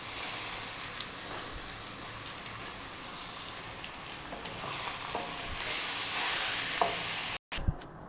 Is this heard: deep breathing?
no